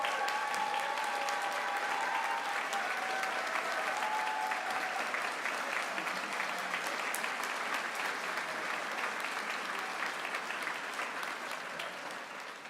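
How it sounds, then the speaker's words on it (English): Sustained audience applause honoring graduates at a university School of Education hooding ceremony, a dense, steady wash of clapping from a large crowd that holds for the whole stretch and tapers slightly at the end. "let's give all of those folks a rousing round of applause"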